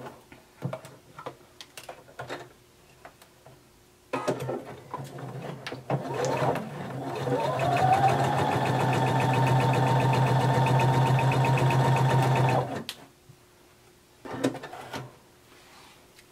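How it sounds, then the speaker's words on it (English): A sewing machine runs a long, steady, close stitching pass down the side of a romper, lasting several seconds with a continuous rhythmic whir, framed by scattered clicks and handling noises before and after. "Now sew all the way down each side."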